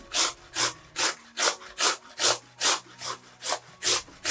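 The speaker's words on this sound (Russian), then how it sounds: "Две крупных картофелины тру на крупной терке." Two large potatoes are rubbed against a coarse grater in about eleven quick, evenly spaced rasping strokes, close and clear with no talking.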